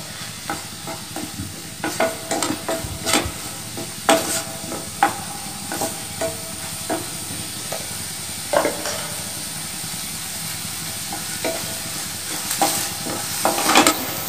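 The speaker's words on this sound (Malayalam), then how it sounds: "ഇതൊന്ന് ഫ്രൈ ആയി വരുമ്പോഴത്തേക്കും ഇതിലേക്ക് നമുക്കൊരു 1/2 ടീസ്പൂൺ മഞ്ഞൾപ്പൊടി" Squid frying with turmeric in a pan for koonthal filling, a low continuous sizzle under repeated sharp clacks and scrapes of a spoon against the pan, spaced irregularly, with no voices.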